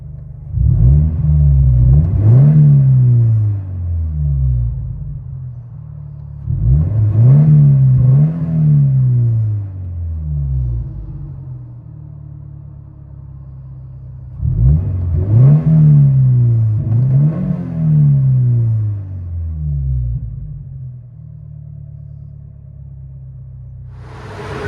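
Interior view of a 2013 Scion FR-S (Toyota) 2.0L with a GReddy exhaust muffler, revved four times in distinct rising bursts that fall back to a steady low idle hum between them.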